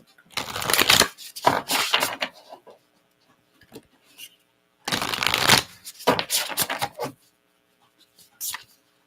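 A deck of cards is shuffled in two bursts of quick riffling rattle and ruffling, close and crisp, with quiet gaps between them and a brief flutter of cards at the end.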